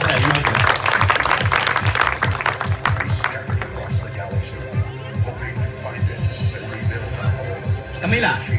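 A live audience at a bird show in Punta Cana claps and applauds steadily and loudly throughout, with voices mixed into the crowd noise.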